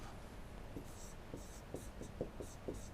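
Chalk or marker strokes on a board during a lecture on digital communication, a series of short scratchy taps and scrapes spaced irregularly, close and fairly quiet with no talking.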